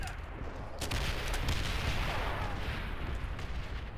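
Rapid, dense gunfire in the Call of Duty: World at War video game, a steady roar of shots and booming artillery that keeps going for the whole stretch.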